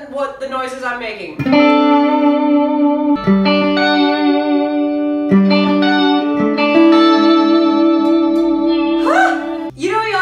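Notes and chords ring out from an Eastwood Astrojet Tenor DLX electric guitar, their pitch bent and swayed by the vibrato bar, with short pauses and swooping dips between sustained phrases.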